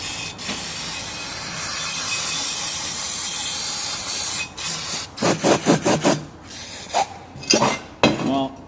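Brake cleaner sprays onto an old Coleman 502 camp stove in steady hissing bursts, a long continuous spray followed by several short rhythmic shots, close and fairly loud with no talking.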